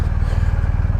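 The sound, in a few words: 2023 BMW R1250GS Rally motorcycle engine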